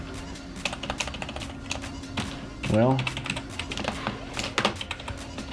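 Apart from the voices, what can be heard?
typing on a GX50 gaming membrane keyboard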